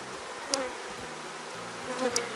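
Honeybee colony buzzing during a hive inspection, a continuous dense drone close by with a couple of sharper bursts as individual bees pass near.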